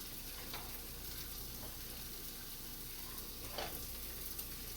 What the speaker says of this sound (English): Give it a little stir. Get the cilantro mixed all through the rice.